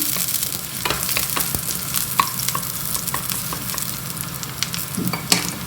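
Garlic fries in a pan for an alugbati and sardine dish, a close, steady sizzle broken by scraping clicks as a utensil stirs it, with no voices.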